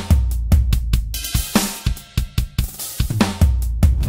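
Drum kit groove mixing open hi-hat, ride bell, stack cymbal and tom fills over kick and snare, busy and loud, played close with no voices.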